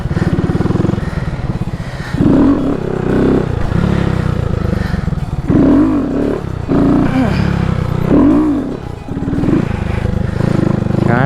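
A Honda Grom motorcycle engine drones and revs up and down in repeated swells during wheelie practice, loud and close, with someone talking over it throughout.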